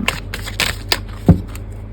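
Tarot cards shuffled close up, a loud riffling patter of several quick card strikes in an uneven rhythm, ending in a firmer tap.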